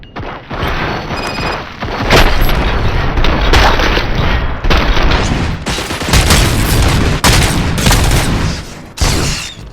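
Sustained gunfire from the Robocop Rogue City video game, a loud, dense fusillade of shots and booms running almost continuously, with brief gaps between bursts, close and heavy throughout.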